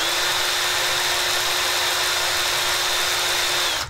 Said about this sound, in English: So let's go spin our drill up.